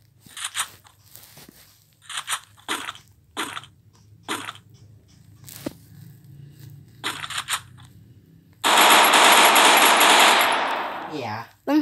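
Gunfire in the Free Fire video game: a run of quick sharp bursts and single shots, then a loud sustained blast of noise near the end, with faint voices talking between the shots.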